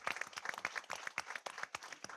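Audience at a Martinsville High School board meeting claps for students, a sparse scattering of individual claps ringing out alone in the room, fairly near and irregular.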